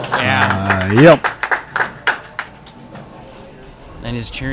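Crowd clapping and cheering at a bowling alley during stepladder finals at Cedarvale Lanes, a burst of sharp claps and cheers following a strike while commentators talk over it.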